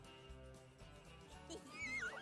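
Horse whinny from The Sims video game, a high rising neigh near the end over a quiet musical background, voiced by a human actor imitating a horse.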